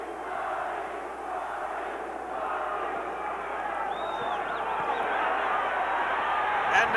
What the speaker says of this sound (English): the chant goes up, Johnny, Johnny, from the crowd